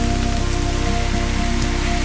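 Steady rain falls on a surface during a trip in Thailand, a dense even hiss of drops with a constant low background hum, no voices.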